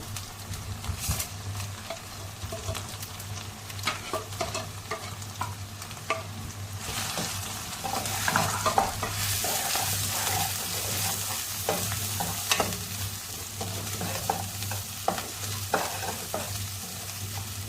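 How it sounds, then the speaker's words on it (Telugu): Masala spices sizzling in a hot pan for vermicelli while being stirred, a continuous frying hiss with scattered scraping and clinking of a spoon, close and steady without speech. "ఈ మసాలాలను కూడా ఒక 2 మినిట్స్ వరకు వేయిద్దాము."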